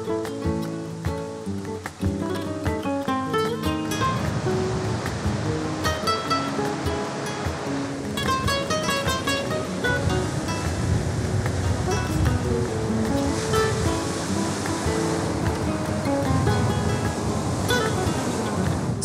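Ocean waves wash continuously onto a beach in Fuerteventura, Spain, a loud, steady surf roar with music playing over it throughout.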